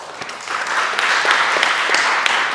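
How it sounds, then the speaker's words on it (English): A conference audience claps together in a short burst, many hands sounding close and fairly loud, swelling slightly and then holding steady. "Big applause for them."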